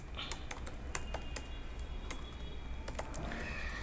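Rapid, close keystrokes on a computer keyboard while writing React code that uses Axios, clicking in quick bursts and short pauses with no talking.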